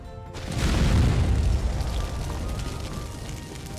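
Dragonpowder jar exploding in the video game Conan Exiles, a heavy booming blast that rises fast and then holds as a long rumbling roar, loud and close with no voices.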